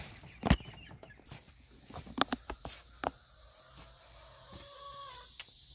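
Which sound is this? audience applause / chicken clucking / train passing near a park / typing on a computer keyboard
chicken clucking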